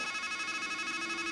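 A telephone rings steadily in the video game Strangeland, a bright electronic warble pulsing in quick, even rhythm, loud and close with no voices over it.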